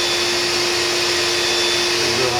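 Vacuum cleaner powered through an inverter in an off-grid shed, a loud steady motor whine with a constant hum, running continuously and up close.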